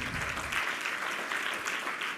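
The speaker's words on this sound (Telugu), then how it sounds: "చప్పట్లు గట్టి కొడదాం ఒకసారి" A church congregation claps together during a sermon, a dense, steady wash of hand claps sustained throughout at moderate loudness without a break.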